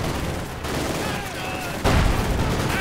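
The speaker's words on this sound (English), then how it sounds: "Panzer's rushing in from all sides with their submachine guns" Submachine gun fire rattles in a Company of Heroes 2 battle with Panzergrenadiers and conscripts, dense bursts of distant gunfire under a constant wash of battle noise, with a sudden louder volley near the end.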